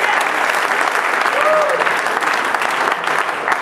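An audience applauds the theatre staff, a dense, steady wash of clapping filling the room for a few seconds, loud and close, with faint voices mixed in.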